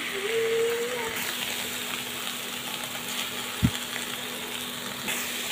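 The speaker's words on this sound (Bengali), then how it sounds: "তো আর একটু ভাজি করতে হবে, যখন কড়াইয়ের গায়ে পুরা লেগে যাবে তখনই কিন্তু আমি শাকটাকে নামিয়ে নেব আবার।" Malabar spinach (pui shak) sizzles steadily as it is stir-fried in a wok, a close, even frying hiss. There are a few stirring scrapes and one sharp clink partway through.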